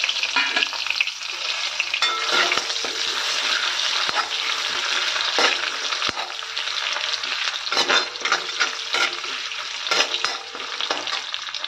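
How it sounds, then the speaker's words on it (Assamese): Onions sizzle steadily in oil in a hot kadai, a dense continuous crackle with occasional stirring scrapes and clinks, close and fairly loud throughout with no talking. "অকণমান ৰঙচুৱা হোৱালৈকে মই ভাজিম পিঁয়াজখিনি।"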